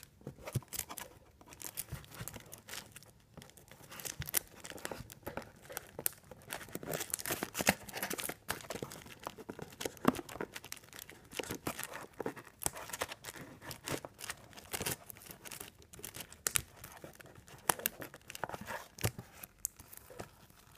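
Paper and plastic packaging crinkles and tears continuously up close as a mailed package of baseball trading cards is opened, with dense rustling, ripping bursts and handling clatter.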